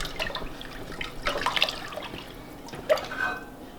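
Four cups of cold water poured over rice for Egyptian koshari, a close splashing, trickling pour in uneven bursts with a few drips and a short bright splash near the end, no talking.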